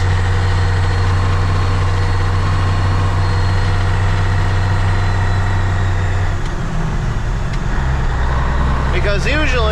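A skid steer loader shifted into sixth gear while plowing snow, its heavy diesel running as a steady low rumble close by, with the pitch dropping and a rattling change toward the end.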